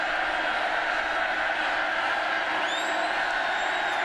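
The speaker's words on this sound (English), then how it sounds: "Baylor crowd trying to urge their defensive unit on here" Baylor home crowd cheering at a college football game against Oklahoma, a loud continuous roar from a packed stadium with a whistle-like call rising near the end.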